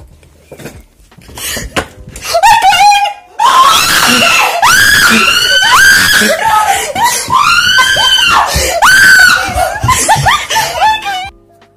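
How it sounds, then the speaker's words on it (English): A family screams in shock over A-level exam results, high shrieks and squeals swelling into a long loud burst of overlapping yelling with bits of laughter, close and intense for about ten seconds. "that's where the screaming came in, because I was so shocked"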